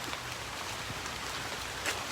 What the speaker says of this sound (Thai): ตอนนี้ฝนก็ ตกลงมานะฮะ